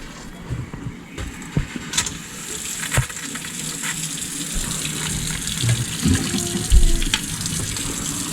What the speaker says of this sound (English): That's the hot water